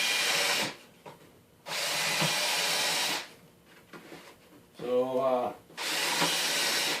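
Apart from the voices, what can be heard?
pre-drilling plywood with a countersink bit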